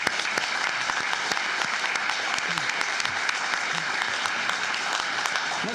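A room at a county commissioners court meeting fills with steady, dense applause for employees, continuous and even from start to finish.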